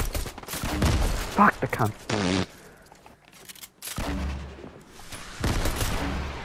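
Gunfire in Fortnite rings out in loud broadband bursts amid a frantic match, with several sharp volleys and blasts broken by a brief lull, while players talk and shout over the shots.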